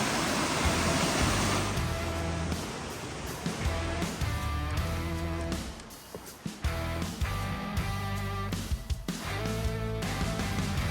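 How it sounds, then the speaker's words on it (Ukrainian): A small mountain waterfall pours with a steady broadband rush, mixed with clattering and handling noises close by. "Такий невеликий водоспад у нас тут получается"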